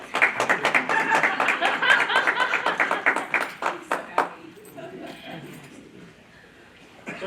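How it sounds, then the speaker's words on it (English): An audience claps at a school board meeting, with steady, fairly close applause that thins out and trails off into scattered claps and room noise. "They were the ones that were clapping"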